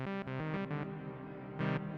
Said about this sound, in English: Now it's a decent sounding reverb.